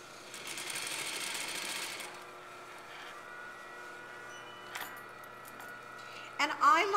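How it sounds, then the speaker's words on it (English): A sewing machine stitches a shirt cuff with a soft, close motor whir for the first couple of seconds, followed by quieter handling noises and a few clicks. "sew slowly and carefully to the other end"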